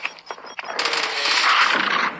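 Automatic gunfire in Call of Duty Mobile during hardpoint multiplayer, a few sharp shots followed by a sustained, loud, close burst of rapid fire lasting over a second, without talk.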